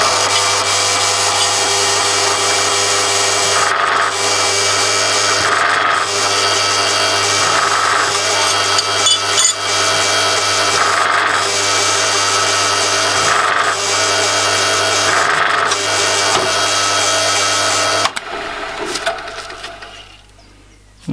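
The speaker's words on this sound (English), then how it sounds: "So this is an old Progress drill from the 1940s, and I have my countersink bit permanently fitted on here." A noisy 1940s Progress drill runs steadily with a droning motor whine, pulsing as the countersink bit bites repeatedly into holes, then winds down and stops near the end.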